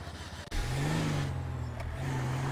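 A 1984 Ford F-150 pickup engine in a racing video game idles, then rises into a steady, fairly loud hum after a brief dip, holding its low drone alone with no talking.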